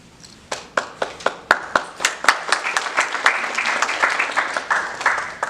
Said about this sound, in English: You don't have to clap after every poem.